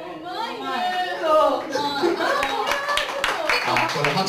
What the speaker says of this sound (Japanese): これ拍手が多いですね